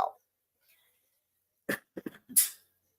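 A couple of short, sharp coughs after a brief quiet stretch, followed by a harsher throat-clearing cough, close by.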